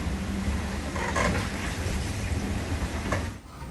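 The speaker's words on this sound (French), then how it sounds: "Bon, bel orage encore une fois." A thunderstorm at sea, with dense rain hammering a solo racing sailboat during the Vendée Globe, steady and close, and low rumbles of thunder mixed into the downpour.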